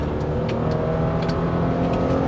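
Engine of a 2024 Subaru Crosstrek with a CVT accelerating hard onto a highway, a steady loud droning roar held at a constant pitch, close and continuous with no talk.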